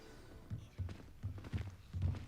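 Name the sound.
footsteps in the video game Hogwarts Legacy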